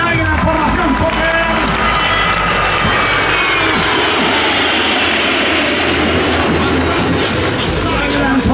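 Patrulla Águila aerobatic jets pass overhead in formation at the Festa al Cel air show at Lleida-Alguaire airport. A loud, continuous engine roar swells and fills the whole stretch, with a commentator talking over it.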